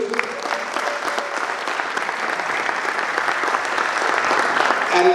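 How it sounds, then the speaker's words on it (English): A conference audience at a three-day CEO Clubs India summit in Hyderabad applauds a young woman, with sustained dense clapping that swells slightly toward the end. "Round of applause for the young lady."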